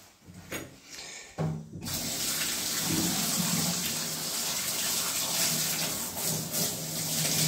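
Steady rushing water runs continuously, like a hose or tap spraying, as cool water rinses a husky's fur, after a brief quiet start with a few faint knocks.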